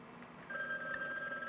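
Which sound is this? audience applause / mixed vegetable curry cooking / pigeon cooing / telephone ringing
telephone ringing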